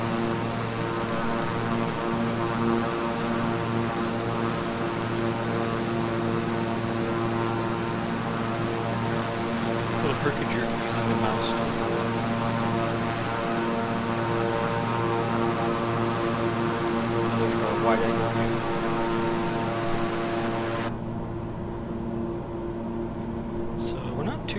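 A King Air 350i twin-engine turboprop in Microsoft Flight Simulator drones steadily and loudly throughout, a constant propeller hum with layered engine tones, and no one speaks over it.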